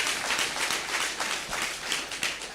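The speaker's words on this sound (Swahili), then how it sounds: "mpigie makofi" A church congregation at a Sunday service applauds the next singer, a continuous wash of many hands clapping together, moderately loud and steady throughout.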